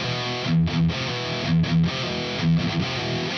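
A distorted electric guitar plays a verse riff, dense and loud, with a chugging rhythmic pattern of pull-offs repeating in short bursts, heard alone and close.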